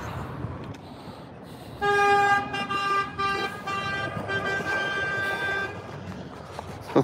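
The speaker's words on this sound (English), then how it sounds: "He's honking at him" A car horn blares in a long, steady toot of about four seconds, loud and close over faint road noise, with a brief second burst at the end.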